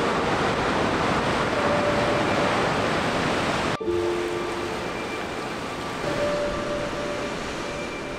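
Ocean surf on the Madeira coast, a loud continuous roar of breaking waves mixed with wind buffeting, steady and close with a brief dropout midway.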